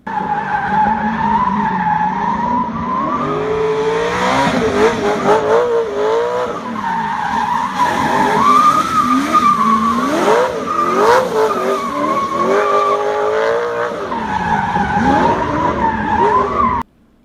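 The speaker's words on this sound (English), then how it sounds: "here's a clip so you can listen to the V8 roar its way through the corners" A roaring NASCAR V8 engine in a Lexus LFA drift car revs up and down repeatedly through corners, with squealing tires and rising and falling pitch, loud and close, then cuts off abruptly.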